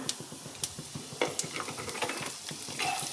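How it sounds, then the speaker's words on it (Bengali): Peanuts with black cumin and cumin frying in a pan for raw tomato bharta, a soft close sizzle with rhythmic stirring scrapes and occasional light clinks of the spoon, no talking. "এটাকে আমি একটু ভাজতে দিয়ে দেবো।"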